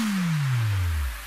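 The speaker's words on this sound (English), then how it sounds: "we have a sub drop and a lot of effects, okay? Like swipe ups and swipe downs" Sub drop in an electronic dance remix, a deep tone sliding steadily downward in pitch under a broad hissing sweep, loud and alone, fading at the end.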